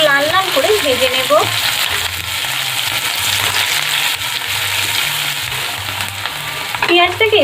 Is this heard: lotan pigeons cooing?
no